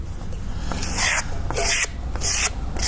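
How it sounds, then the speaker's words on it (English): Scraping strokes across the surface of a terracotta clay bowl, three broad raspy passes, each about half a second long, with short pauses between them, close and fairly loud, with no talk. "by scraping you can see that exposing some of the marbling effect"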